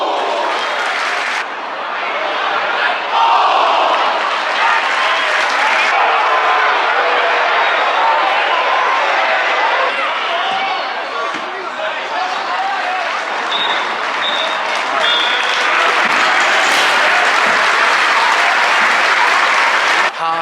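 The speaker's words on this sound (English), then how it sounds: "Reaction from the fans was pretty subdued. Little cheer, round of applause." Football fans at a Crusaders versus Glentoran match in Belfast give steady applause with scattered cheers after a volleyed goal, a continuous crowd wash of clapping lasting throughout.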